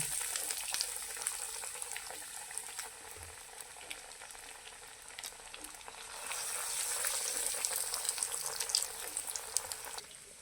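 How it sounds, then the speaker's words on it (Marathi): Bread patties frying in hot oil, a steady bright sizzle running throughout, growing fuller and louder in the second half, with small crackles and pops scattered over it and no voices. "तेल आपलं चांगलं गरम झालेलं आहे त्यात आता आपण हे सोडून घ्यायचं"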